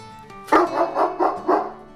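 A house dog barks four times in quick succession from close by, each bark loud and clear, with a faint hum underneath.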